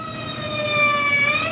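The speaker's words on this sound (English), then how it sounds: "we got all of the sirens going past this morning" Emergency vehicle sirens pass by outside in the morning, a sustained wailing tone with steady harmonics that swells slightly louder midway and holds, with no talking over it.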